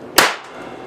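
A 250-volt capacitor bank discharges into light bulbs with a single sharp, loud bang that decays quickly into a faint ringing tail.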